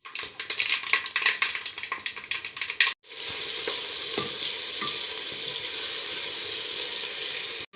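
Onion and tomato hitting hot oil in a pan on a village wood-fired stove for chicken curry: crackling pops at first, then a break, then a dense, steady hiss of frying.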